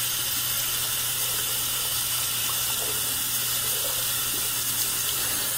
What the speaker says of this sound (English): I'm going to run just a little hot water